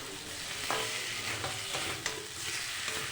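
Egg curry masala being stir-fried in a pan, a steady close sizzle broken by a few scraping stirs of the spatula, with no voices.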